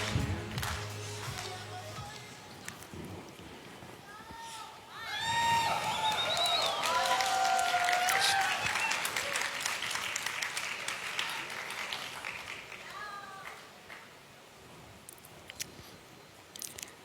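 Audience applause and cheering welcoming a speaker onto a stage at a manager training camp, a steady crowd clapping that swells around the middle, with some whistles or shouts, then thins out toward the end.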